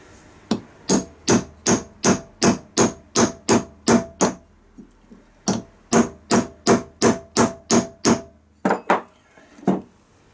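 A hammer taps a socket on a Mazda alternator in a long run of sharp, evenly spaced metallic knocks. After a short pause it resumes, then ends with a few final strikes, close and clear.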